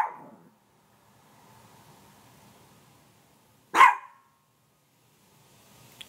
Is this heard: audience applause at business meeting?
no